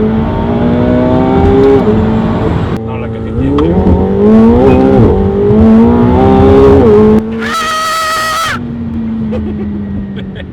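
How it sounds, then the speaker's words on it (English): A McLaren sports car drives and revs up close, its engine note climbing and falling through gear changes, with a brief high-pitched whine bursting in near the end before the steady drone resumes. "that's how a man rides in a McLaren"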